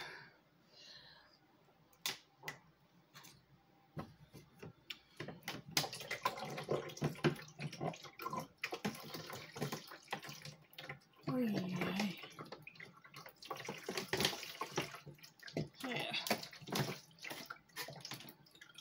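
Tap water runs into a vessel at home while coffee is being made, a broad steady splashing wash that swells and fades over about nineteen seconds, close by and moderately loud, with snaps and clunks of handling mixed in.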